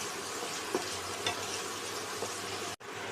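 Chopped onion and garlic sizzle steadily in a hot pan, a constant crackling hiss broken by a few soft stirring scrapes.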